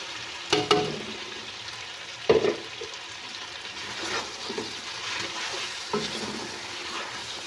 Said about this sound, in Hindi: इसमें मैं लहसुन और अदरक के पानी का छींटा लगाने